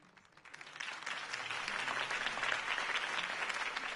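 A crowd in Batman: The Telltale Series breaks into steady, sustained applause that swells and holds, dense clapping filling the space.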